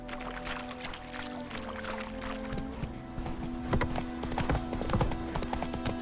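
Horse hooves clip-clop at a steady walking rhythm in The Witcher 3, close and clear over a low hum of game ambience and faint music, with no talking.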